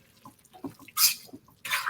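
Saved pasta water is poured into a cooking pan in two short splashing bursts, with quiet kitchen sounds between them.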